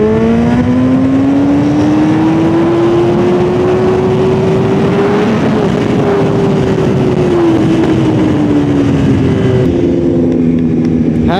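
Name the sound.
stage 2 tuned BMW S1000RR motorcycle engine revving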